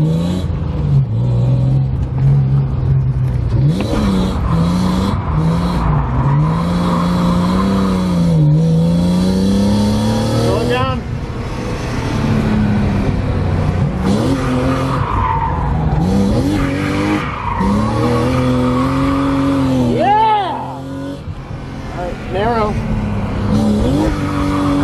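A BMW E36 drifting, engine revving hard with rising and falling pitch and long tire squeal running throughout, loud and close.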